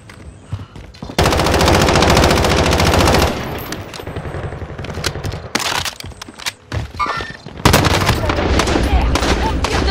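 Loud sustained automatic gunfire in Call of Duty Warzone Modern Warfare, long machine-gun bursts broken by short pauses and single shots, with brief in-game voices between volleys.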